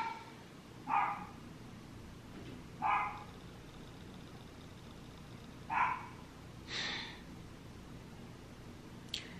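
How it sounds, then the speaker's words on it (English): A dog barks four separate times at uneven intervals, each bark short and moderately distant against a quiet room background, with no talking. "That fucking dog bark all day."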